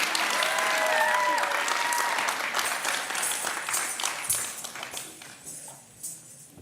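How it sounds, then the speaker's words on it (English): An audience applauds after an arangetram classical dance performance, the clapping full and loud at first, then gradually thinning and tapering off, with faint voices briefly audible early on. "Let's give her another round of applause."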